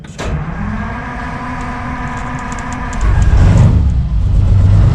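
Small motor cranking briefly in cold conditions, then catching and settling into a louder, steady running drone.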